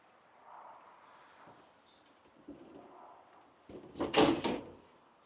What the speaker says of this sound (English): Trash can drawer.